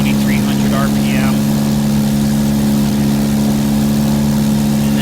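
Aircraft engine in a flight simulator game, power being added back toward about 2,300 RPM after leveling off: a loud, steady droning hum that holds throughout, with faint higher tones briefly rising near the start.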